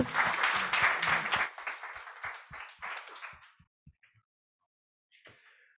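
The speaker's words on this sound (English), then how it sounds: "Round of applause." Applause from a conference audience after a talk, loud dense clapping for about a second and a half, then thinning to scattered individual claps before a brief final burst.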